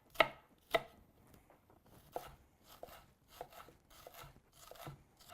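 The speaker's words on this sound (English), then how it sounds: "Got a little knob of ginger. We're just gonna do a little tiny chop on this guy." Knife chopping a small knob of ginger on a board: a few sharp, distinct chops spaced about half a second apart, then softer, irregular cuts trailing off, close and fairly quiet with no talking.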